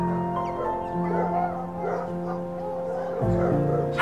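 A three-year-old Kelpie cross dog gives soft, whimpering yips and short barks close by, sustained over a low hum with a louder burst near the end.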